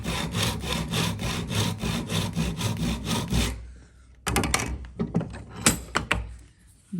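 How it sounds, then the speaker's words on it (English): A tenon saw cutting down into a notch in wood: rapid, even back-and-forth rasping strokes close by for several seconds, then a pause followed by a few scattered short scraping strokes and knocks. "I'm going to take my tenon saw, pop it in the notch"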